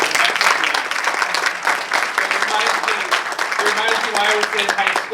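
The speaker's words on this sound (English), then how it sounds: "just to get another round of applause for our students." Audience applause for students at a press conference, steady dense clapping from a crowd throughout, with a few voices faintly mixed in underneath.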